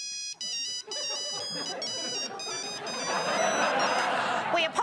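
A telephone ringing while a caller waits on hold, repeated electronic ring bursts in a steady rhythm, fairly faint, giving way to a swelling busy murmur toward the end.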